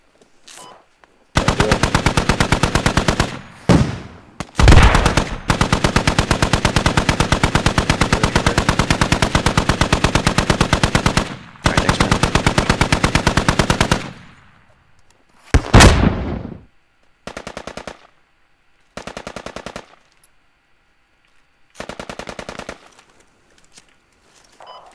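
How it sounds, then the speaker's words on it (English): Suppressive machine gun fire in the Squad video game: long, loud, rapid sustained bursts from close by, then a pause and several shorter bursts with distant shots between. "laid on some suppressive fire for just 30 seconds"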